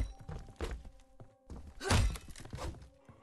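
Game character struck with a small iron bar during a Friday the 13th match: a few dull thuds and thwacks around a heavy central impact, mixed with scuffling footsteps and game noise.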